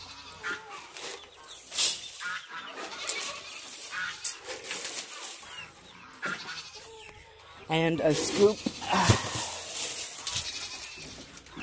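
Goats bleat intermittently among farmyard geese calls, with a person talking nearby over the animal noise.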